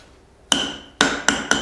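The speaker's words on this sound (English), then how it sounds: "then I'm gonna hit it with a hammer like that" A hammer drives a handle into the head of a small hand-forged cross peen hammer, four sharp ringing metallic strikes, close and loud, the last three coming faster, with a quiet pause before the first.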